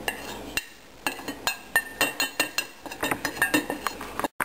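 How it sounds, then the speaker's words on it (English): Dry ingredients for fried fish being mixed in a bowl: a steady run of sharp clinks and taps as a utensil knocks against the dish, fairly close and clear with no talking. "I'm going to mix all the dry ingredient first."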